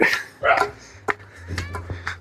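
Dogs bark in short, sharp bursts at the Koorumala viewpoint, several close barks in quick succession against a low outdoor background.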